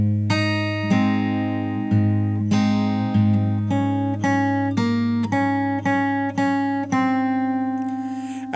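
Fingerstyle acoustic guitar plays the final bar of a song's post chorus, rhythmic plucked notes and bass repeating in a close, steady pattern, alone without speech.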